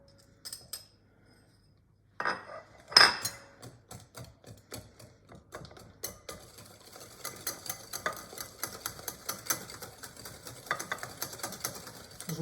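Cake batter for an apple cake, made from creamed butter, sugar and eggs, is mixed in a bowl with a utensil. Quiet at first, then a steady run of rhythmic scraping and tapping strokes up close.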